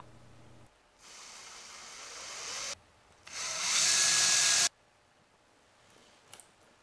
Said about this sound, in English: the width of my dado blade is only half the width of the slot I am going to cut